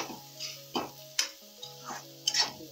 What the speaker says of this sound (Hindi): जब तक हमारा आलू भून रहा है